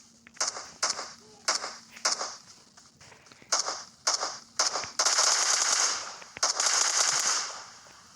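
Gunfire in a PUBG Mobile firefight rings out as a series of sharp, separate shots, some doubled, then denser bursts of rattling fire near the end, fairly close and clear.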